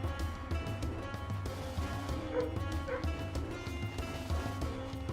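A dog in the video game Strange Seed barks and yips in short repeated bursts over a steady, low game soundtrack, fairly faint in the mix.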